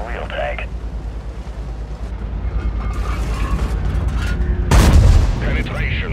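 A tank shell strikes and penetrates an enemy tank in World of Tanks, heard as a heavy metallic impact and boom near the end, after rattling mechanical tank noise.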